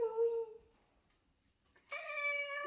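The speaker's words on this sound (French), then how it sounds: "je vais vous montrer mon chat quand même" A pet cat meows twice indoors, a drawn-out cry and then a higher, clear meow, close but fairly quiet with no talk over it.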